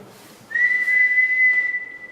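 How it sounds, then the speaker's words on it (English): A single clear, steady whistled tone held for over a second, fairly loud and close, with no talking around it, inside the former HMP Shrewsbury prison. "When you whistled, there's another whistle."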